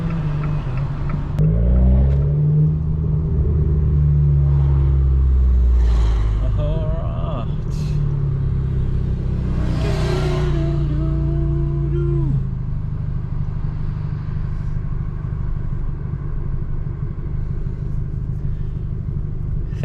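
A loud Abarth car engine rumbles deeply while being driven, swelling in the first few seconds and then settling into a steady, throaty drone, with someone talking over it.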